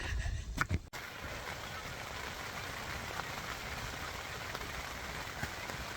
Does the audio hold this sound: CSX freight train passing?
no